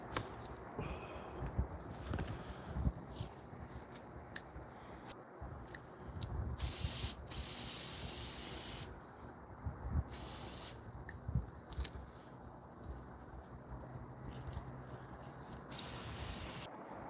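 A spray paint can sprays a doll's dress in repeated hissing bursts of a few seconds each, close and loud, with pauses and faint handling noise between them.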